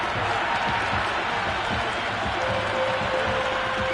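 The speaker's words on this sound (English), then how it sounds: "The crowd are really getting quite raucous." Raucous cricket crowd noise in a PS5 cricket video game, a dense, steady roar of applause and cheering that stays loud and continuous throughout, with a thin sustained tone running above it.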